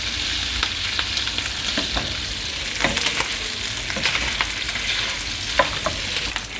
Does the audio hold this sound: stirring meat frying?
yes